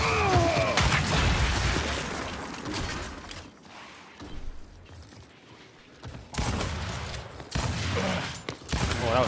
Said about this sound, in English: Oh, that was a laggy second shot.